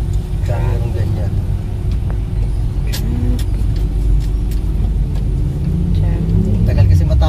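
Heavy street traffic near an unfinished overpass in the Philippines, with a constant loud rumble of cars and buses, passing engines and occasional revving, continuous throughout with no break.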